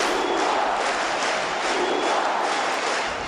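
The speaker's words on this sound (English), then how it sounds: "Barack Obama went to visit Cuba and Raul Castro to the cheers of the crowd there at the baseball stadium?" A large crowd roars and cheers at a baseball stadium in Cuba during a presidential visit, a dense, loud, continuous wash of voices with no pauses.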